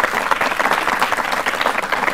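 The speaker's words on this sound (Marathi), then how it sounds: "तर सर्वात आधी यांच्यासाठी टाळ्या होऊन जाऊ द्या." Audience applauding a wrestling champion who won gold at Maharashtra Kesari, a dense, steady burst of clapping from a crowd filling the whole moment without talk.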